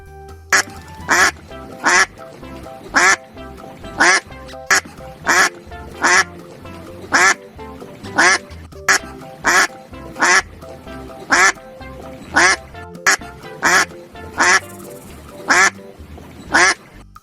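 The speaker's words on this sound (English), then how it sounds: "Duck." Repeated duck quacks ring out loud and close, coming in short evenly spaced bursts of a few calls each across the whole stretch, with no other sounds between them.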